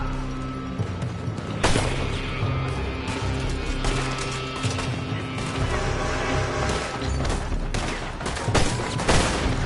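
Gunfire fills a Red Dead Redemption 2 firefight: dense volleys of rifle and pistol shots crack over a constant roar of battle, with loud bursts near the two-second mark and toward the end, and no talking.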